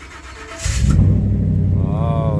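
A Ford F-150 pickup engine with a faulty starter motor cranks briefly, then catches and settles into a loud, steady idle rumble close by.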